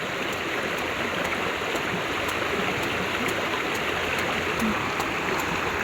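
Strong flowing water rushing steadily nearby, a dense, constant broadband wash with no pauses and no voices over it.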